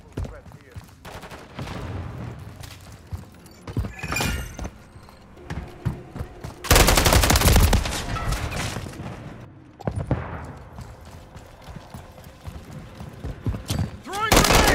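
Gunfire in Call of Duty Modern Warfare 3 on the Highrise map: irregular bursts of shots and rattling automatic fire, with a heavy loud stretch midway and sharp cracks near the end, mixed with thuds.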